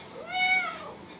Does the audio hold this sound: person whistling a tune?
no